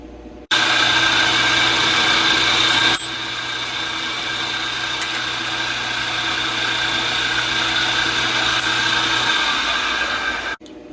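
A small handheld drill deburrs a freshly drilled hole in a knife build, giving a steady high whine for about ten seconds that shifts pitch briefly partway through and stops abruptly.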